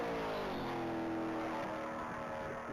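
A 2004 Corvette Z06 races through the one-mile speed trap at a top-speed event, its engine note whining steadily at high revs from some distance.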